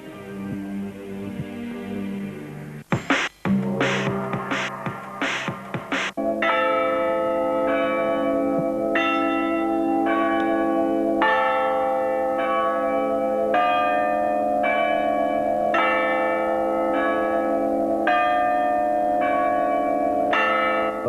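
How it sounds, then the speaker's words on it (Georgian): Cathedral church bells in Tbilisi ring out loud and near, starting with a few rapid clanging strikes and then settling into a steady, rhythmic peal of overlapping tones that continues for about twenty seconds. "საკათედრო ტაძრის ზარი ვის უხმობს?"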